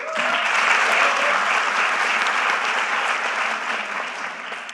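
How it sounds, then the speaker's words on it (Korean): A large crowd applauds at a presidential town hall meeting on Jeju, producing a dense, steady wash of clapping that holds strong before easing slightly at the end, with no voices over it. "저 박수 벌써 몇 번째 받고 있습니다."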